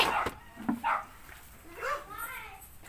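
A dog gives a few short yips and barks close by after getting loose, with a voice calling out in between.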